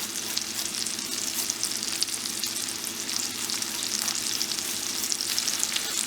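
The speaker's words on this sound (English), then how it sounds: "And I'm going to grate the ginger into the pan." Garlic and grated ginger fry in a pan for chicken korma with a continuous, crackling sizzle that holds steady and close throughout.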